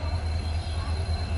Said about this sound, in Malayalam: നമുക്ക് പോകാനുള്ള ട്രെയിനിന്റെ ലോക്കോമോട്ടീവ് ആണ് ഈ കടന്നു വരുന്നത്.